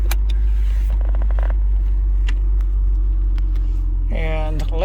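A Jaguar XK8 convertible, a carbon fiber edition, starts up with a brief cranking burst and then settles into a steady, deep idle rumble heard from close inside the car, with a short whirring rise near the end.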